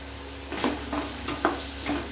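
A blended tomato-and-onion paste is stirred into hot oil in a frying pan for a mushroom gravy, bringing a steady sizzle with a few scraping spoon strokes against the pan, close by and with no speech.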